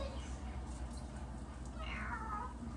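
A kitten in a kitchen gives one soft, short meow partway through, faint against a constant low background hum.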